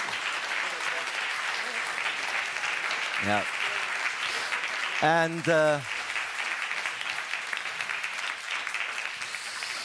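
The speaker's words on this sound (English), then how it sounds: "This is your applause." An audience at an energy security conference applauds steadily at a moderate distance, and a few short voices cut through the dense clapping partway through.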